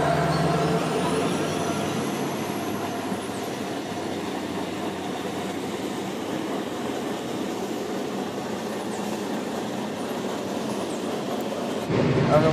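A train rolls past on a railway line right beside a room, a steady loud rumble with rail clatter that holds for the whole stretch before cutting off abruptly at the end.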